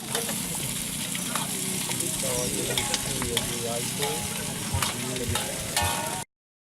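Chicken sizzles loudly in a wok at an outdoor food stall in Indonesia, a dense crackling fry with frequent scraping strokes of a spatula and faint voices in the background, ending abruptly.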